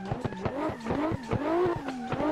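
A car drifts in the Assetto Corsa racing game with a direct-drive steering wheel, tires squealing in repeated wavering bursts over a revving engine, loud and close.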